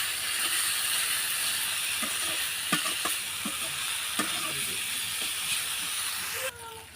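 Potato and chopped onion frying in a pan with a loud, continuous sizzling hiss close up, punctuated by a few soft scraping stirs and a clink near the end.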